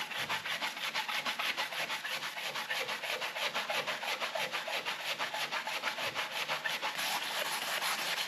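Sandpaper scrubs rust off the base of a planer during a rebuild, a rapid, continuous rhythmic rasping heard close up and without any talk.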